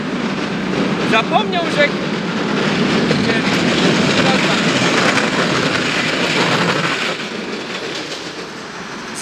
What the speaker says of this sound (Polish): Strasbanka jedzie akurat, słuchajcie, no będzie larmo.